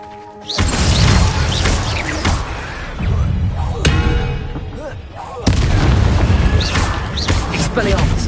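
A Glacius freezing spell is cast in a Harry Potter video game, heard as a loud, dense magical burst with booming crashes and whooshing, icy sweeps, a brief dip midway, then swelling again over game sound.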